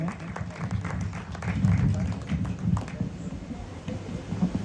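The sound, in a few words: applause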